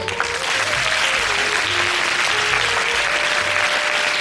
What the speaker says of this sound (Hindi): इन सभी के लिए जोरदार तालियां